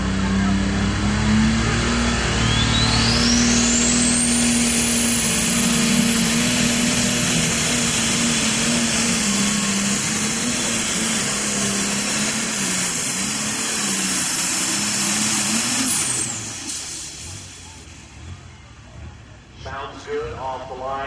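A diesel super stock tractor makes a pulling run at an NTPA event in Wilmington, Ohio. The loud engine drones steadily with a rising turbo whine that holds high, then drops off and fades late. An announcer talks over it.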